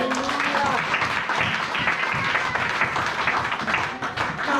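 A congregation applauds steadily and loudly at a Christian worship service, the dense clapping sustained throughout with voices mixed in.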